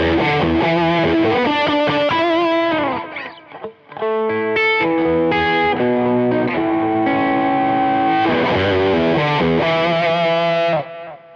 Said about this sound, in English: It's a Germanium fuzz.